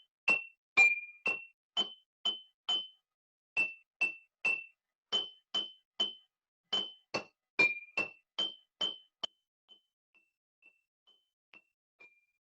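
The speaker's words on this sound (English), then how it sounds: "you can do this with any kind of glass cup that you have that's going to make a noise when you hit it" Glass cups holding different amounts of water are struck one after another to play a simple melody, about twenty bright ringing pings in steady rhythm, then a few faint taps to finish.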